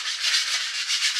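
Close, steady rasping of fine-grit sandpaper smoothing the handle of a buffalo knife kit, in quick back-and-forth strokes with a gentle rhythmic swell and no talk.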